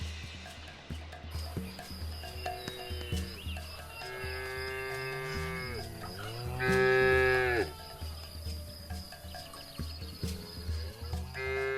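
Cattle moo in a farm setting, several long, drawn-out lowing calls close by, one louder bellow in the middle, over a steady background hum of insects.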